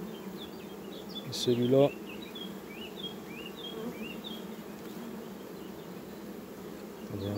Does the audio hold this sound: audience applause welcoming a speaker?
no